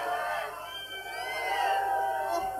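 Women in a 1980 concert audience in London boo and hiss on cue, a continuous high-pitched crowd noise of shrill jeers, whoops and shrieks rising and falling together.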